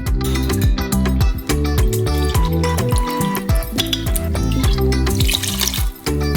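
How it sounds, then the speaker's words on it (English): Sake is poured steadily into a saucepan in a home kitchen, making a continuous near, loud liquid splashing and trickling with light clinks and no talking. "We measure out exactly the same amount of sake."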